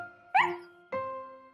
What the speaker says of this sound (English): Just then, Snuffy started to bark.